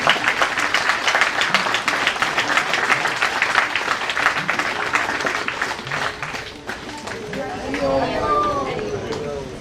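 Loud, dense applause from a crowd at a yoga day program in Indore, India, claps steadily throughout, easing slightly toward the end as some tonal sounds emerge.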